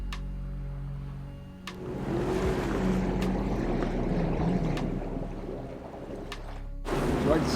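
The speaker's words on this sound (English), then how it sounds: "We are still sailing." A sailboat under way on the open sea overnight, bound for the Atlantic Ocean: a steady rumbling wash of hull, water and wind that swells louder after a quieter opening and runs on without a break.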